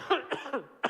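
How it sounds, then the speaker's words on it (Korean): A man preaching a Sunday morning church sermon coughs several times in quick succession, harsh and close, within under a second. "중요한 이야기 하니까 기침이 나오고 있습니다"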